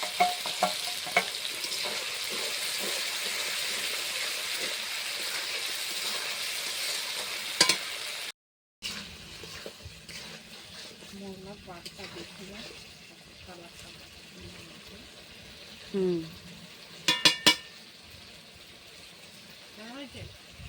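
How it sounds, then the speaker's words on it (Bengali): Spices being sautéed and stirred in a pan, a steady sizzle through the first half, then a short gap followed by quieter frying with scraping spatula strokes and occasional louder clatters. "এবার সমস্ত মশলা দিয়ে কষানো হবে, ভালো করে কষিয়ে নিতে হবে।"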